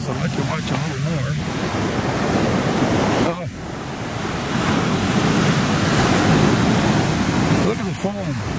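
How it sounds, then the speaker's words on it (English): Ocean waves and surf at Peggy's Cove roar close and steady with heavy wind across the microphone, a brief lull midway before the wash swells again, and short voice fragments near the start and end. "Unless you like watching the waves, I'll let you watch a little more."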